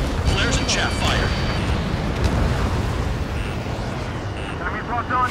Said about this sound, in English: Flares and chaff fire.